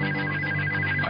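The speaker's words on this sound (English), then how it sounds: "Ayash awakes to a ringing phone." A telephone rings continuously and close, a steady electronic ringtone filling the whole moment with no talk.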